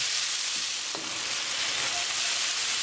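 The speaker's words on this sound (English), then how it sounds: "Now we're going to add tomatoes. Mix it well. Keep mixing and keep cooking." Tomatoes sizzling hard in a green chili tadka while being stirred, a dense, loud, continuous frying hiss with a faint scrape of the spoon and no voices.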